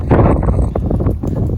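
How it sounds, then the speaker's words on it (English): Strong outdoor wind buffets the microphone during a metal detecting dig, a loud, close, continuous rumble with no gaps. "Oh my gosh, this wind is crazy."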